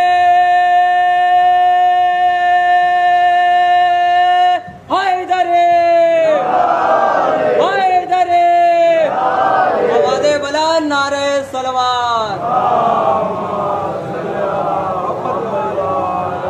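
A crowd at a majlis shouts religious slogans in loud, rhythmic bursts after a long sustained held tone, with voices surging together repeatedly in call-and-response fashion.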